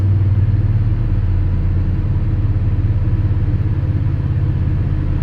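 A 1985 Chevy Squarebody truck engine idles steadily at a fairly constant speed, a loud, continuous low rumble close by with no talking.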